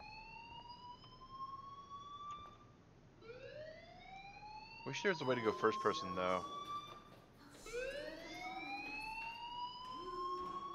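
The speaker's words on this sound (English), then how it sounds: "Hey, do you hear that fire alarm?" A fire alarm in Life is Strange wails in repeated rising siren sweeps at moderate volume, with a burst of clattering noise in the middle and someone talking over it.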